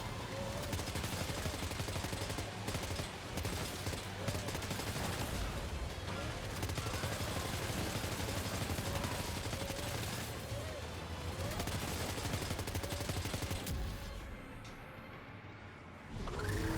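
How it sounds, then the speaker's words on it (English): M2 assault rifle fire in the video game Death Stranding 2: repeated bursts of gunfire over a dense game soundtrack, continuing for most of the stretch before dropping off near the end. "Assault rifle. Yeah, assault rifle M2."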